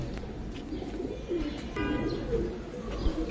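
Giribaz pigeons coo softly in a low, repeated murmur, with several birds overlapping close by and no voices.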